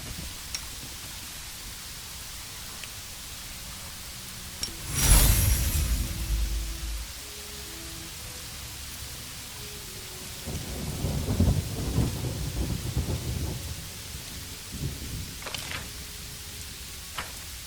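Thunder and rain in the video game Pathfinder: Wrath of the Righteous: a sharp crack of thunder breaks over a steady rain hiss, followed later by a longer, rolling rumble that fades back into the rain.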